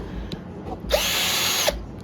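A Shiny Link cordless drill runs at its maximum high-speed setting in a single steady burst of about three quarters of a second, loud and close, with a sharp click at start and stop and no talking.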